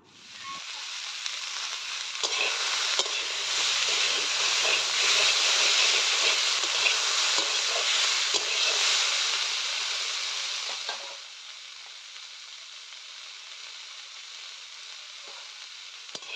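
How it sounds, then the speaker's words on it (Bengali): Potatoes and red amaranth stalks fry in a pan while being stirred, a loud steady sizzle with scraping stirs that drops to a quieter simmering crackle near the end, no talk. "এই আলু আর ডাঁটা সব কিছুর সঙ্গে ভালো করে ভেজে নেবো আরও কিছুক্ষণ সময় নিয়ে"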